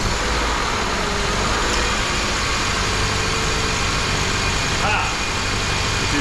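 A Subaru Forester 2.5 engine, just back together after a timing cover seal repair, runs close by with a loud, steady, broadband drone that holds for the whole stretch, with voices faint in the background.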